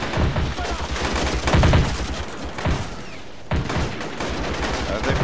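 Dense bursts of game gunfire from distant positions across a river in a World War III strategy battle between North Korean, Chinese and US forces, with sustained volleys and booming thumps layered into a continuous loud barrage.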